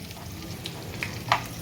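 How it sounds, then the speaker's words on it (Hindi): Mustard seeds and curry leaves sizzle in hot oil for a tadka, a steady frying hiss broken by a few sharp pops and crackles as the seeds burst. "बस इसको हल्का सा सौते कर लेते हैं राई चटकने तक।"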